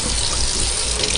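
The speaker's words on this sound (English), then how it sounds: "first is we turn on the hot water" Hot water gushing from a kitchen tap in a strong, steady stream, loud and close with no break.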